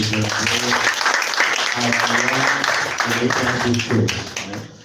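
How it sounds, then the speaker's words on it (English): An audience applauds at a conference summit, sustained clapping filling the room, with a person talking over it at moments. "Do we like the presentation? A hand of applause again."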